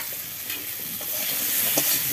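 Jackfruit and prawns for a curry frying in a pan, giving a brief, steady close sizzle that grows slightly louder, with faint scraping and stirring.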